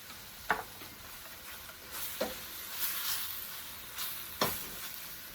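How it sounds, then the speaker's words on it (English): Creamy chicken pasta with spinach, tomatoes and bacon gets stirred in a pan, with a steady low sizzle broken by three or four sharp utensil scrapes against the pan, close and fairly quiet. "Give that a nice stir"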